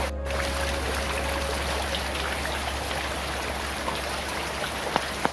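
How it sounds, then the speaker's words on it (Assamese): Steady heavy rain pours down during a flood in a dense, continuous hiss, with a low rumble underneath and a couple of sharp drips near the end. "যিমান ধাৰাসাৰ বৰষুণ হৈছে একবাৰ চাওক আপোনালোকে"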